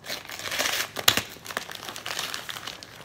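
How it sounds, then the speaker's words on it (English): Package wrapped in craft paper being torn open by hand, with steady crinkling and crumpling and a sharp rip near the middle, close and fairly loud, no talking. "It's all wrapped up nice with the craft paper. I'm gonna just kind of dig my way in here."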